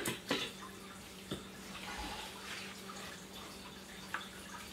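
Water added to a powdered grout mix trickles and drips softly, with a few small splashes over a faint, steady watery hiss.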